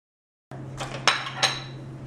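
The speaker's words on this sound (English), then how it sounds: "We're going to mix them all together." Cupcake batter of milk, applesauce and lemon zest being mixed in a bowl, with a few close clinks and scrapes of a utensil against the bowl over a quiet steady hum.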